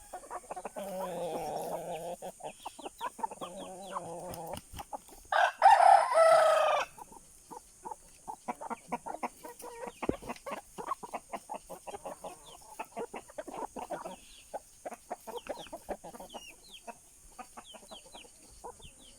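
Hens and roosters cluck steadily in a farmyard, with a loud rooster crow bursting out briefly near the middle and scattered pecking clicks and clucks continuing around it.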